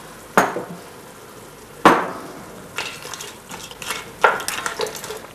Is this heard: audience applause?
no